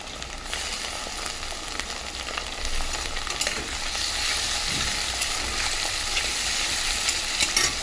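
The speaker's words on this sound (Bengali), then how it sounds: "এর সাথে চিংড়ি মাছগুলো দিয়ে দেবো, ওর সাথে একসঙ্গে ভাজা হয়ে যাবে" Onions and prawns frying together in a pan, a continuous close crackling sizzle with occasional sharper pops and stirring scrapes, no voices.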